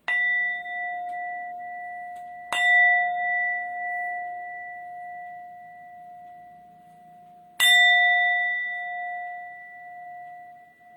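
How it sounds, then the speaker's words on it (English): A singing bowl is struck twice, each clear metallic ring sustaining and slowly fading over quiet stillness. "I'm going to ring a singing bowl"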